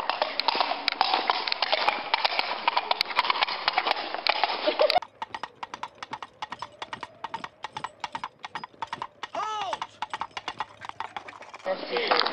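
Coconut shells clapped together imitate horse hooves at Doune Castle, a rapid run of sharp hollow clip-clops close by, broken up by a section of wind or handling noise and some chatter.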